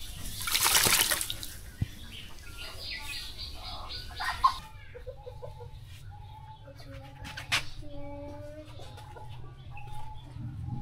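A Lokkha pigeon bathing in water: a burst of splashing and flapping at first, then quieter dripping with soft cooing and chirping calls close by.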